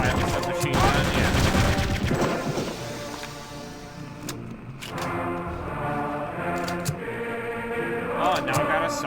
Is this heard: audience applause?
no